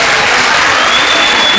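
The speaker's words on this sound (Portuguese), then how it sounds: "acho que as pessoas estão aplaudindo" Studio audience on a Brazilian TV talk show applauding steadily, a dense, even wash of many hands clapping at close range with no break, alone without talk.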